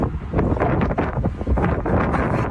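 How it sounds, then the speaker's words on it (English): Loud, gusty wind from an approaching hurricane buffeting the microphone on a 20-foot sailboat in Tampa Harbor, a constant low roar with brief dips and surges throughout. "Bear with me on the wind."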